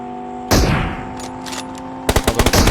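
A PUBG Mobile firefight: one loud nearby gunshot with a ringing tail, a few fainter shots, then a quick rapid burst of automatic fire, close and harsh.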